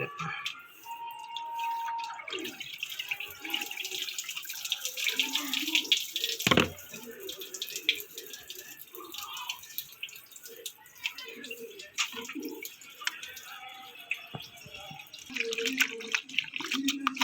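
Cleaned squid is rinsed under running tap water in a kitchen sink, with close splashing, trickling and dripping that rise and fall, and a voice speaking at times over the water.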